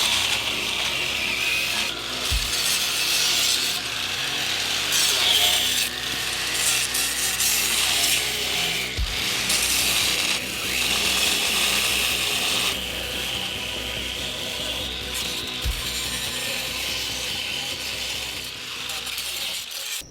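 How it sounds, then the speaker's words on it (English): A cutting wheel trims the rough edges of an Ultracal 30 plaster body mold, making a continuous close grinding whine with a few sharp knocks along the way and no talk. "I pretty much took a cutting wheel and cut all the rough edges off of this thing."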